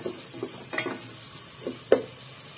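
Spice paste with tomato is sautéed in a pan, with intermittent scraping and clinking of a utensil against the pan over a faint, soft sizzle.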